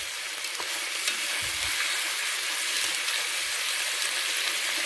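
Shallots sizzle gently in a pan, a constant soft frying hiss with small crackles and a brief low thump near the start, with no voices.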